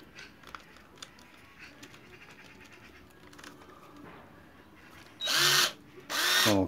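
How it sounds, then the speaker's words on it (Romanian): A power drill fitted with a spiral bit bores a hole in a raw potato in two short, loud bursts of whirring near the end, after a stretch of quiet room tone. "Pentru a găuri cartoful, am pregătit așa 2 spirale din astea."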